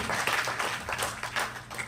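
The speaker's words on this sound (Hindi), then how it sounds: "तो एक बार जोरदार तालियां" An audience at an Indian poetry and music evening applauds, a brief burst of scattered hand clapping at moderate, fairly distant level.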